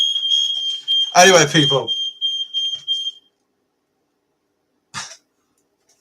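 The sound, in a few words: smoke alarm beeping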